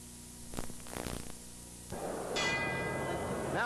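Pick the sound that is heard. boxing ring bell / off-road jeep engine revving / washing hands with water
boxing ring bell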